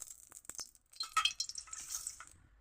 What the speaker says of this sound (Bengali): তেলটা একটু নেড়ে চেড়ে দেই।